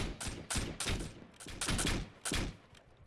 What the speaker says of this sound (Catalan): això que estem fent tota la línia disparant a la mateixa